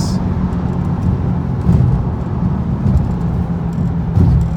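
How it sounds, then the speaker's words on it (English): A BMW E60 M5 cruising on a bumpy freeway in fifth gear, its engine a steady low drone under road and tire roar, continuous and fairly loud from inside the cabin with no talking. "Car is purring beautifully"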